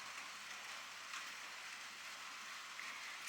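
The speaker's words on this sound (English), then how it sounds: "It's raining." Rain falling at night on the Kingsnorth Golf Club driving range, a faint, steady hiss of drops with no talk over it.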